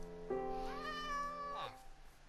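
A single drawn-out cat meow from the Minecraft video game, clear and fairly close, rising then falling over about a second and a half with no talking.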